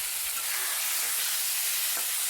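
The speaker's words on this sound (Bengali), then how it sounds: "হলুদ গুঁড়ো দেওয়ার পরে আবারও একটু নাড়াচাড়া করে নেব" Onions frying in a pan with turmeric powder give a constant close hiss and sizzle, with faint stirring movements underneath.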